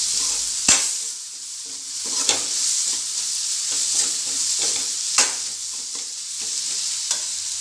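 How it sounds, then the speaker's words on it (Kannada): Capsicum curry fries in a pan with a constant sizzle, while a spoon stirs and scrapes it in sharp clacks roughly every second or so, close up and with no voices. "ಇವಾಗ ಚಲೋತ್ನ ಮಿಕ್ಸ್ ಮಾಡ್ಕೊಂಬಿಡೋಣ."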